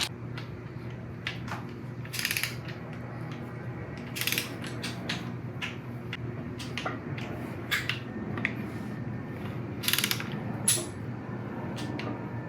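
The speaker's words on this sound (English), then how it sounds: "torque it to 18 with the right socket" A socket wrench clicks and ratchets near and clearly on engine bolts of an LC9 LS engine while they are torqued down, with bursts of ratchet clicks and metallic taps over a low steady hum.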